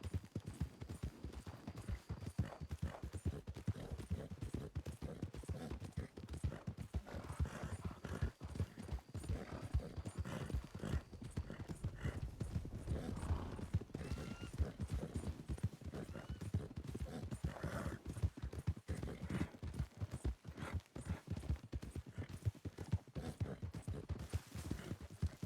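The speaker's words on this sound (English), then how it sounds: "It's kind of rough terrain for the horse." Galloping horse hooves pound over rough terrain in a video game: a fast, continuous, rhythmic clip-clop that carries on for about 25 seconds, fairly quiet and with no voices.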